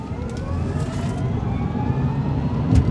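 Dual-motor 2024 Rivian R1T Performance electric pickup floored from a rolling start in traffic, giving a steady, rising whine and road roar that swells toward the end, with no talk over it.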